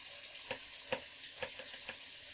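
Spices being sautéed in a pan for a duck meat roast, a steady soft sizzle with a few light spoon scrapes spaced about half a second apart, close and quiet.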